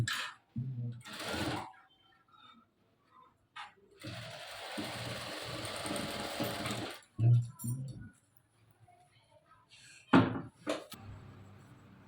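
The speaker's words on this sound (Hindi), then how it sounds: "तो सिलाई चलाकर आपको दिखाते हैं।" A sewing machine stitching a dress runs in one sustained whirring burst, with shorter runs and clicks of fabric handling around it in a quiet room.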